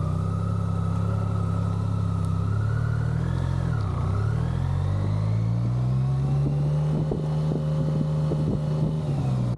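A BMW K75 motorcycle engine hums steadily while riding along, a loud close drone with shifting pitch and wind rushing over the microphone, no talking.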